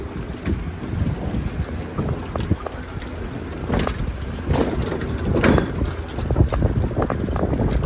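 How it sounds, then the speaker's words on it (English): Strong wind buffets a boat moored at a dock on a crazy windy night at James Island, with steady roaring gusts, water slapping and creaking as the hull rocks, continuous and loud. "There's some pretty serious winds out there right now."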